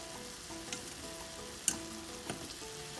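Beef cube steak with onions sizzles in a pan while cooking Puerto Rican bistec encebollado. It gives a quiet, steady frying hiss with a few soft clicks and spatters and no talking.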